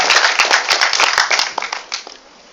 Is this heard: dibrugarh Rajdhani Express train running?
no